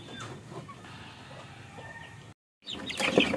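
Rhode Island rooster and chickens in a backyard cluck and call softly at a distance over low ambient noise, broken by a brief silent gap before louder nearby clucks and rustling resume.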